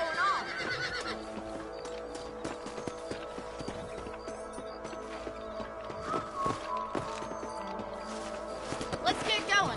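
Horses neigh and whinny over clip-clopping hooves in Red Dead Redemption, with a loud whinny near the start and more hoofbeats and snorts through a busy game soundscape.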